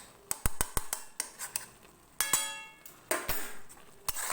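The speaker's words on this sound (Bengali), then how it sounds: "ঘি দিয়ে ভালো করে মিশিয়ে দিলাম" A metal spoon clinks and scrapes against a pot while ghee is stirred into cooked tarka dal: a quick run of sharp, close taps, then slower scraping strokes and a few louder clangs.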